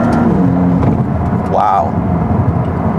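A Maserati MC20 supercar in Sport mode drives with a steady low engine and road drone, a brief rising tonal sweep in the middle, and someone talking over it.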